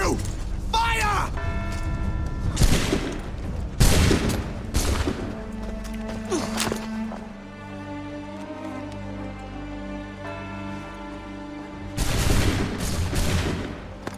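Musket volleys crack out in Assassin's Creed III, a ragged burst of gunfire near the start and another around the middle, loud and close over music and game noise, with a late swell of shots at the end.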